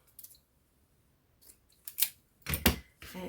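Scissors snip a small piece of lace for a junk journal booklet, a few crisp close cuts scattered over a few seconds with near silence between them and a louder rustling snip near the end.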